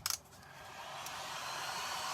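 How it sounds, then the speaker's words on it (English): A handheld dryer blows a steady, even whoosh over scrap wood pumpkins with fresh paint, starting after a short clatter and holding a constant, close airflow. "let me get my dryer out here and I'll start drying these things."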